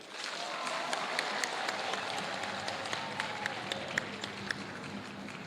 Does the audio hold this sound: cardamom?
no